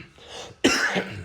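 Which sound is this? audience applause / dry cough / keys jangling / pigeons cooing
dry cough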